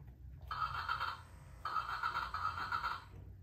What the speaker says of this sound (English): That's the sound the key makes.